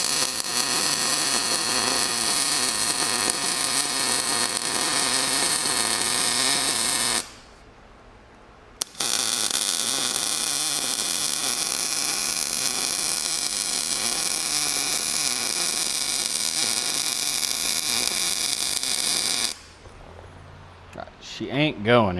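Welding a trac bar mount for a solid axle swap on a first-generation Toyota 4Runner: a steady, loud crackling buzz runs in two long stretches with a short pause between them, then stops near the end.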